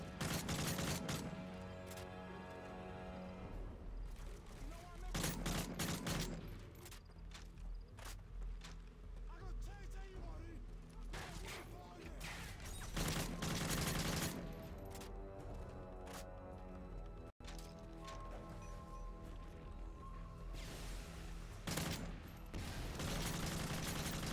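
Gunfire from Call of Duty: Modern Warfare 3 in a Spec Ops mission, with repeated loud bursts of automatic shooting in dense clusters over game music and effects, while a commentator talks throughout.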